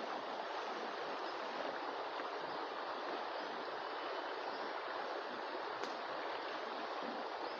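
A clear, fast-flowing rocky river beside a plot of land in Sungai Lui, Hulu Langat, rushes in a steady, dense broadband wash that stays even and unbroken throughout, with no talk over it.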